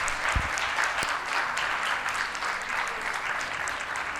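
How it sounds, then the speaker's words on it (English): An audience at a young achievers awards event applauds a panel of honorees, producing a steady, dense clapping that carries on at an even level throughout with a faint crowd murmur beneath. "Please give a full hearty round of applause for our Power Pack panel"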